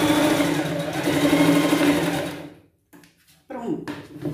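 A sewing machine stitches fabric for a Cinderella-style pet costume dress, running in a loud steady whir for about two and a half seconds, stopping, then starting again in short bursts.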